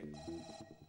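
A mobile phone rings in a studio during a live comedy show, a brief bright electronic tone that sounds at close range for about a second.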